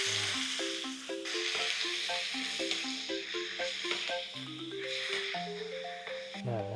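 Chicken sautéing in a pan for green sinigang gives a steady, close sizzle beneath a melodic stepping tune that runs throughout.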